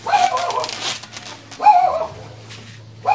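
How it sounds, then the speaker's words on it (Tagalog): A dog gives short whimpering barks and yelps, three bursts close by, with pauses between them. "Uy, may aso"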